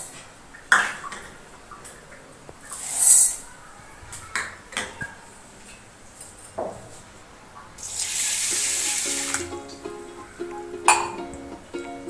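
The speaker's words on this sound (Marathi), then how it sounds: "तर आपण तांदूळ आणि डाळ स्वच्छ धुवून घेणार आहोत" Rice and lentils being rinsed in water in a home kitchen for dal khichadi, with splashes and running-water washes, light clinks of grains and a steel vessel, and a louder pouring burst near the end; no talking.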